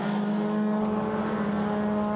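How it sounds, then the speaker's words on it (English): BRX race cars brake into a circuit hairpin with a loud, steady engine drone at a strong fixed pitch, a brief whoosh and tyre noise as a car passes close by. "Scott brakes hard and turns into the hairpin now"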